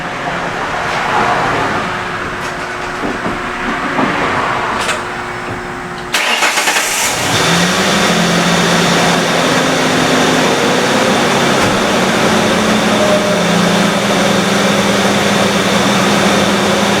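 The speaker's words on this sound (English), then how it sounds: "I'm going to start it up and it's going to show the alternator output" A 2002 Ford Ranger with a 4.0L V6 cranks briefly and fires up, then settles into a steady, loud idle that hums on evenly for the rest of the clip.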